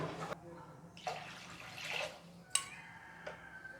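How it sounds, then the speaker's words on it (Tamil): Water poured into a pot of pakoda kulambu curry, a soft splashing trickle in a few short bursts, fairly faint in a quiet kitchen. "ஸோ கொஞ்சம் நிறையாவே தண்ணி ஊற்றிக்கோங்க."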